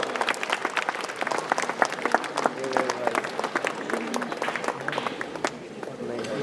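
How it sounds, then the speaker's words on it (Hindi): Students at a St. Xavier's College Christmas gathering clap steadily in a crowded hall for the launch of the college English magazine, with voices talking over the applause. "Please give a huge round of applause"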